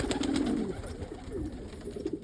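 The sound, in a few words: pigeons cooing, Andalusian and Indian fantail pigeons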